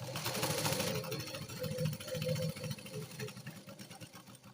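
A sewing machine runs a basting stitch through lining fabric with a steady, moderately quiet mechanical hum and rapid needle rhythm throughout, fading slightly toward the end.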